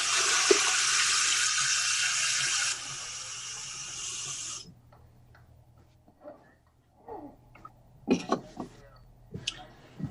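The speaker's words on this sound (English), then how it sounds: "We're gonna put a little water in there." Water poured from a tap into a mixing bowl while making dough, a steady loud hissing stream for several seconds that then stops, followed by quiet clinks and brief talk.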